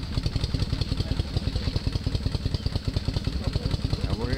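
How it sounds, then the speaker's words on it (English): Several Milwaukee Iron motorcycle engines idle and rumble at a motorcycle parking area, a steady close, loud mechanical throb with rapid regular pulses and clattering throughout. "Milwaukee Irons making a bit of noise"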